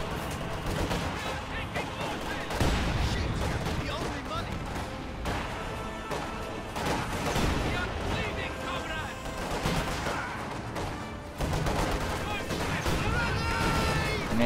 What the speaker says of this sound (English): Grenade goes off. Connects quite well. Heavy mortar also connects well.